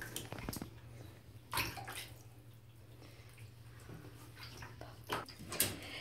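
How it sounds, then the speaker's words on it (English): A ferret is soaked in bath water, giving faint splashes and sloshing in a tub with a low steady hum underneath. A few louder splashes stand out against the quiet. "So now, I am soaking Trixie"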